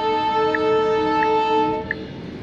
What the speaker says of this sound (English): We got a train coming. Good old Tacoma Rail.